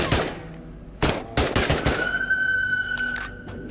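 Assault rifle fire in the shooter game Into The Radius: a short burst, then several sharp rapid shots close together, followed by a lingering ringing tone and ambient noise, loud and near.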